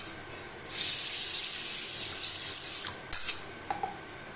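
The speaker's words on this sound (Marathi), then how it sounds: "तुम्ही आता हे छान स्वच्छ धुवून घ्यायचे" Running water splashes steadily from a tap for a few seconds, followed by a couple of sharper clatters and swishes as rice is rinsed in a bowl.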